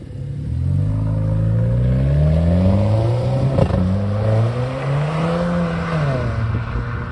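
Renault Clio 4 RS Stage 1 of 250 horsepower, fitted with a stainless exhaust and dump valve, revs and accelerates hard in loud, close rising pulls through the gears, with a brief crackle midway and no talk.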